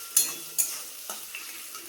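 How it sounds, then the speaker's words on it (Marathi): Onion sautéing in a kadai with a few sharp spatula scrapes and stirs over a quiet sizzle, close and brief. "कांदा अगोदर मस्त परतून घ्यायचा कढईत."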